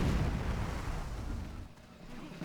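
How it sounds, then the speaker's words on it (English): Anti-aircraft gun firing on ships in Civilization V, a heavy booming blast with rumbling low-end roar that decays over a couple of seconds. "That's an anti-aircraft gun that they're firing on my ships with"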